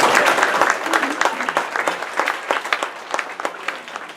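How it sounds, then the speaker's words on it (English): Banquet audience applauding at a school baseball awards night, a steady wash of many hands clapping close and full for the whole stretch, with a few sharper individual claps standing out. "We can clap. We can clap."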